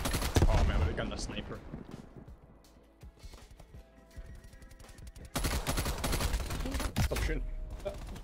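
Gunfire from a gun in Black Ops Cold War, loud bursts of rapid shots, then quieter spaced single shots, then heavy firing again, mixed with game noise.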